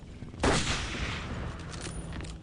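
In the video game Battlefield 1942, a sniper rifle fires a single sharp shot that rings out loudly and then trails off into a fading echo over quieter background game noise.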